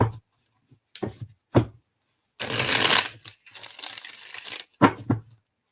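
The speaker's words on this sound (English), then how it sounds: "Let me get these shuffled out really quick for you." Tarot cards shuffled by hand in a few quick bursts: short snappy riffles, then a long continuous rustling shuffle lasting about two seconds, ending with brisk taps as the deck is squared, close and loud.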